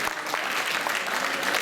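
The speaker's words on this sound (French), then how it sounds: "On peut les applaudir aussi." Crowd at an evening amateur singing contest in Bain de Bretagne applauds steadily in a brief, even burst of dense clapping.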